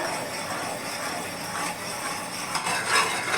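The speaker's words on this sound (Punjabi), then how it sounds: "ਆਪਾਂ ਨਾਲ ਦੀ ਨਾਲ ਚਲਾਉਂਦੇ ਰਹਿਣਾ ਹੈ" Milk mixture thickened with cornflour for homemade ice cream, stirred in a pot with a utensil: soft scraping and light bubbling sizzle at low level, with a few slightly louder scrapes near the end.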